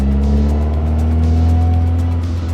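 A Toyota AE86 cruises down a street with a loud, steady engine drone and a faint rising tone, close up, with no voices.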